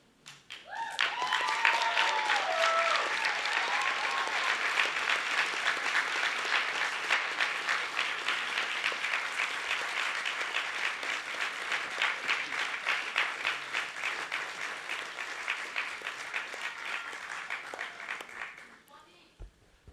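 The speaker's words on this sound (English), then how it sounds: "give them a rousing round of applause" University business school graduates standing at their ceremony applaud family and friends, a loud, sustained wave of clapping that begins after a brief spoken lead-in and fades out near the end.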